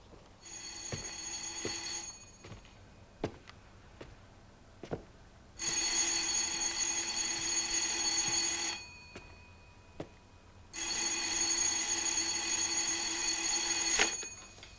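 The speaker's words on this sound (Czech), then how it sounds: "Teď to je telefon." An old telephone bell rings in three long bursts separated by pauses, loud and metallic, with small knocks and room sounds in between.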